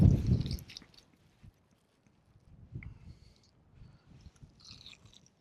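Crunchy-skinned deep-fried chicken is bitten into, one loud crisp crunch at the start followed by quieter, softer chewing sounds close up.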